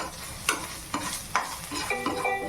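Ginger garlic paste fries in a pan for paneer bhurji, a soft continuous sizzle broken by four or five sharp spatula scrapes and stirs against the pan, close up.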